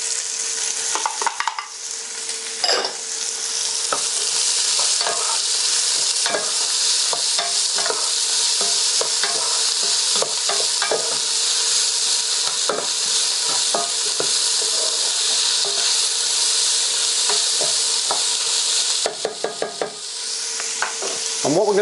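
Onions frying and sizzling steadily in a hot pan with popped black mustard seeds, a loud continuous crackle with occasional stirring scrapes and clinks, for a South Indian fish curry.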